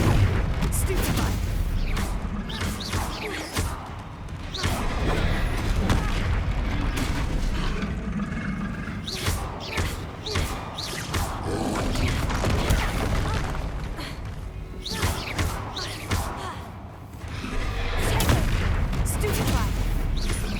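Stupefy spells are cast again and again during a busy Hogwarts Legacy fight, giving repeated booming blasts and crackling impacts that overlap in a dense, loud barrage with short pauses between volleys.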